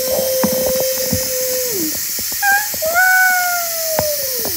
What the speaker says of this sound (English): So I'm going to let the pressure out.